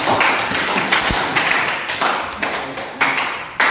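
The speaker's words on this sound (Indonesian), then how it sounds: "Dengan tepuk tangan." A classroom group clapping hands together after a physics lesson on springs, a brisk run of sharp, close claps in bursts with small pauses, fairly loud throughout.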